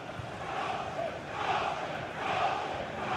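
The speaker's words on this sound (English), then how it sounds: "Being egged on by the crowd." Stadium crowd noise from a simulated FC 24 football match between Nottingham Forest and an opponent, a steady broad roar of cheering that swells in waves, continuous and fairly loud with no distinct voices.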